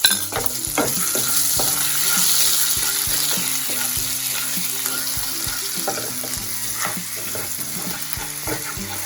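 Crushed ginger and garlic fry in oil with panch phoron, producing a close, bubbling sizzle over repeated taps and scrapes of a stirring spoon against the pan.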